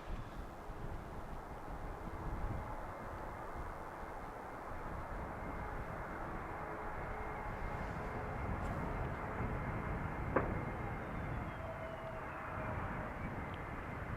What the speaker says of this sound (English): next up is Pegasus Air flight 1253 inbound from Istanbul